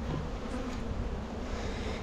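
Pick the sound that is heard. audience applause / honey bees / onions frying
honey bees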